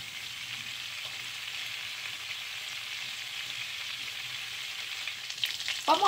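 Fifty grams of butter melting in a hot pan, a steady close sizzle and crackle that holds evenly, with a brief clatter at the very end and no talk.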